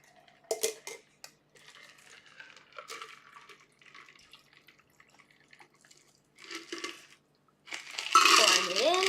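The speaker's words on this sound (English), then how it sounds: "Pouring it in over the ice." Whiskey sour cocktail poured over ice in a glass, preceded by scattered clinks and rattles of ice and glassware, ending in a loud close splashing pour.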